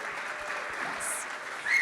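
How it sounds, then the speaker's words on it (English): Applause from the audience at the ETHLondonUK hackathon closing ceremony for the winning teams: a steady, moderately distant wash of clapping that swells slightly near the end. "I think they all deserve a huge round of applause."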